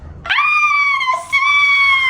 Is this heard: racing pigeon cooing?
no